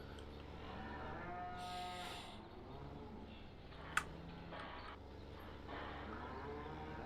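Cattle moo across a farm map in a video game, with drawn-out bellows over steady background ambience and a single sharp click partway through.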